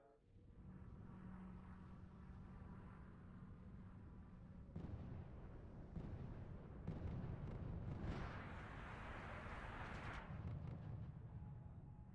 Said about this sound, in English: there's so much fucking artillery too